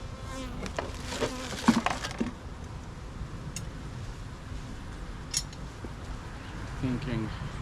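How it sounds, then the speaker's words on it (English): Honey bees buzz around hive frames during a hive inspection, a faint steady hum with occasional closer buzzing passes, mixed with handling clicks and a voice talking. "I see a lot of bees on these frames over here."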